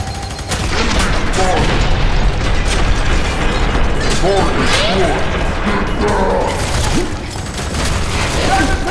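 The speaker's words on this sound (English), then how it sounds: "Tossing grenade!" Grenade blast in the shooter F.E.A.R. 3 amid a prison firefight, heavy booming explosion and crashing debris mixed with ongoing gunfire and shouted voices.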